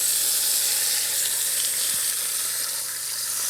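Pork sirloin cooked from frozen sizzles and browns in a pan, a dense, even crackling hiss heard up close and alone, holding steady throughout.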